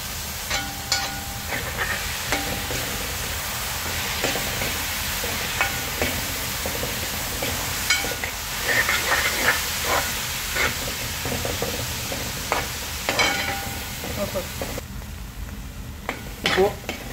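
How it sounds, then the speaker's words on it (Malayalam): Grated onion fries in hot oil in a pan for green chilli egg masala, a steady close sizzle and hiss with occasional stirring scrapes throughout. "എണ്ണ ഒഴിച്ചു, അതിലേക്ക് ആദ്യം സവാള ഗ്രേറ്റ് ചെയ്ത് വെച്ചത്."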